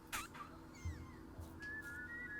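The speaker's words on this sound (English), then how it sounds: "hold left trigger, and whistle" A whistled tune played by a character in the Oddworld New 'N Tasty video game, with a few rising and gliding tones followed by a sustained steady whistle over low game ambience.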